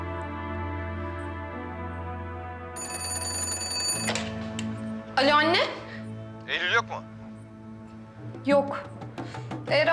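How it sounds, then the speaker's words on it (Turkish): A telephone in a Turkish drama scene rings with a bright electronic trill for about a second. Steady background music plays throughout, and people talk afterward. "Telefon."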